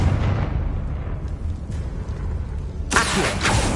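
A Confringo blasting spell in Hogwarts Legacy lands with a sudden bright burst near the end, after a stretch of rumbling, roaring background; loud and close, with no voices.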